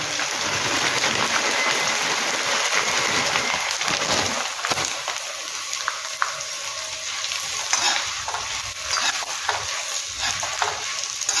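Nylon sabudana and poha fry in hot oil, a loud, continuous crackling sizzle with some stirring noise, dense at first and then easing slightly into a steady hiss with occasional pops, heard up close without talk.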